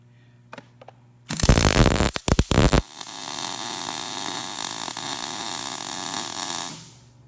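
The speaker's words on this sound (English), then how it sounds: "So now I'm going to come back and weld this on." A MIG welder joins an expand-a-pan onto a metal trap: brief sputtering bursts first, then a steady, close crackling buzz of the arc that holds for about four seconds before cutting off.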